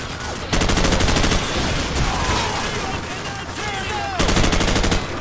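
Sustained automatic suppressing gunfire from Call of Duty 4: Modern Warfare, a dense rapid rattle of bursts that swells loud at the start and again near the end, with battle noise between.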